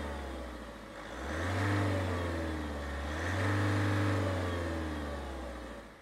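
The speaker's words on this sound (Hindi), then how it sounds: "And this is how the engine sounds." A Mahindra Bolero Neo+ with a 2.2 litre mHawk diesel engine, set up as an ambulance, running close by with its bonnet open, its steady diesel idle rising twice into short revs and settling back.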